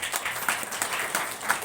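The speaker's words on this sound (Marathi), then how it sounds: "गायनाचार्य, मृदुंगाचार्य वा ह्यांच्यासाठी जोरदार टाळ्या" Brief, moderately distant clapping from an audience at a devotional kirtan performance, applauding the singers and mridangam players in a short, even patter.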